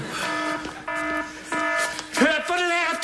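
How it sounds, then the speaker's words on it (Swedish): A shop alarm sounds a loud, piercing electronic tone in repeated bursts with short gaps, close by, and a person talks over it. "Ja, Hör vilket larm!"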